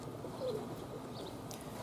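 Roller pigeons coo softly in a brief, low murmur against a steady background hum, young birds kept in training at a home loft.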